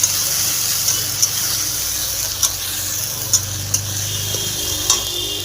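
Ginger and garlic paste being stirred in a frying pan, with a steady sizzle and a few light utensil clicks against the pan. No one speaks.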